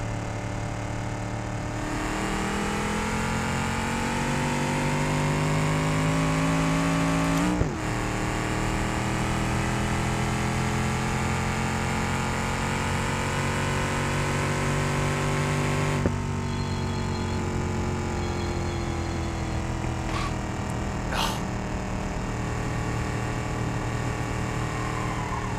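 A car engine in the driving simulator BeamNG.Drive holds a steady, loud drone that climbs slowly in pitch as it accelerates for a long stretch, with a brief thump partway through and no talk.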